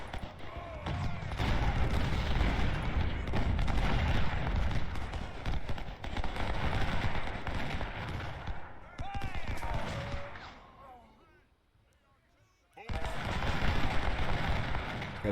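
Artillery cannons boom again and again across a Civil War battlefield in Ultimate General: Civil War, with dense overlapping blasts and rumbling, then a short lull before the firing resumes. Voices can be heard through the barrage.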